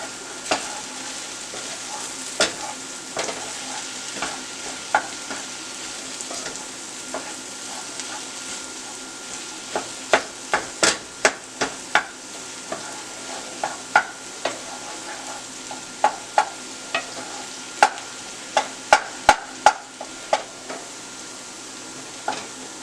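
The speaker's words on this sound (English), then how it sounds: "Check on this meat. Give it a stir." Leftover corned beef frying in a pan under a steady background sizzle, with a spatula stirring and scraping in irregular clusters of sharp clicks and knocks that grow busier midway; close, no talking.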